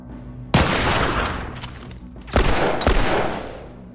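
Rifle fire in a shooting video game rings out in several sharp bursts, loud and close, each shot trailing off into a rolling echo.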